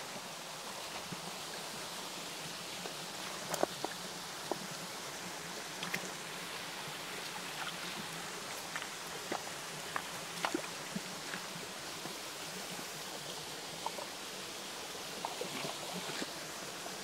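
A mountain stream flows steadily along a forest gully, a constant broad rushing wash with small splashes and clicks over about seventeen seconds, with no voices.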